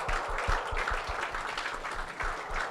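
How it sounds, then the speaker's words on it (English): Audience applause at a satellite launch event, scattered hand clapping of moderate loudness that sounds somewhat distant, with no talking. "So applause."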